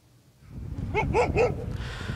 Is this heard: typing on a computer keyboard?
no